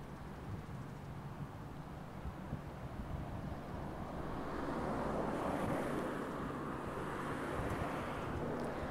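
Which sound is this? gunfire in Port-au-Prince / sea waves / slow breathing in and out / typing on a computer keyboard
sea waves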